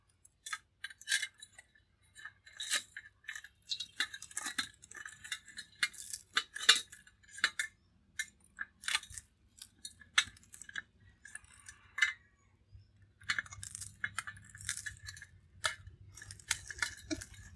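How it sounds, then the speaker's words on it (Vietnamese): Cutting a large vegetarian broken-rice pizza into slices, heard as a long run of crisp, sharp snips and clicks, close and fairly quiet, with irregular bursts and short pauses and no talk. "Mình sẽ cắt từng miếng ra nha cho dễ ăn."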